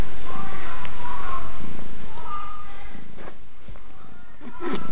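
A house cat lying on a bed purrs in a close, loud continuous rumble, with soft sniffs and snorts and a brief scratchy rustle near the end.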